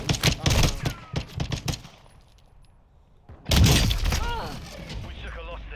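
Video game gunfire in an armored gun fight mode, a rapid burst of close shots at the start, a quiet gap, then a loud blast with lingering rumble, while a player talks over the action.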